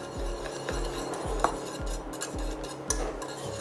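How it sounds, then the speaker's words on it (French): Lemon cream being stirred in a pan over the heat, the utensil scraping the pan in a steady repeating rhythm about every half second, with a couple of sharper clinks against the metal. "je vais continuer à mélanger jusqu'à incorporation complète et surtout jusqu'à totale cuisson des œufs"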